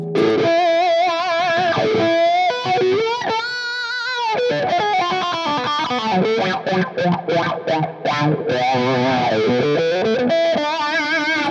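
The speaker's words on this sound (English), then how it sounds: "Hear how like deep and throaty the wah is?" Distorted electric guitar playing a lead line through a Friedman Gold 72 wah pedal, the tone sweeping deep and throaty as notes bend and stutter.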